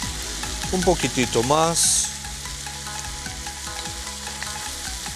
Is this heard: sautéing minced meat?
yes